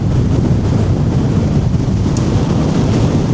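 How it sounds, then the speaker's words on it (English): Strong wind roaring across a Scottish mountain ridge during a Munro hike, a loud, steady, low buffeting rush battering the microphone throughout with no break and no voices. "Don't know if you can hear me with the wind. This is brutal."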